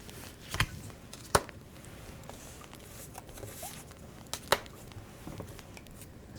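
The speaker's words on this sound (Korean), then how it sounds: "그러면 추가 카드 3장을 더 뽑아보겠습니다" Tarot cards drawn from a deck, a few sharp papery snaps and slides standing out against quiet rustling, close and brief, with no talking.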